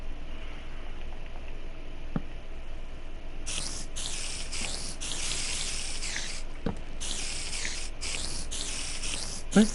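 Water flowing in Minecraft makes a steady hissing, splashing rush that starts partway through and continues in uneven surges, with faint game clicks underneath and no talking.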